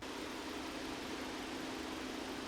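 Steady, even idle of a Hyundai Grandeur engine, its GDI injector ticking muffled and blended into a constant hum, close and unchanging, with no voices.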